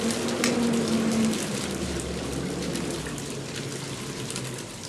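Steady rain patters down in a continuous hiss, with a brief low hum near the start.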